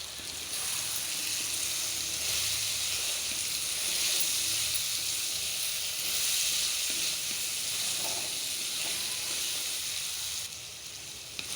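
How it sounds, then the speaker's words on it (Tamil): Drumstick pieces sautéing in hot oil in a pan for a Tamil drumstick poriyal, giving a steady, close, loud sizzle and frying hiss that carries on without pause and with no talking. "எண்ணெயிலே 1 நிமிஷம் நல்லா வதங்கணும்."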